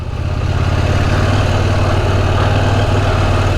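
KTM 790 Adventure motorcycle engine droning steadily while ridden along a narrow lane, a low, even rumble held loud and close throughout with no talk.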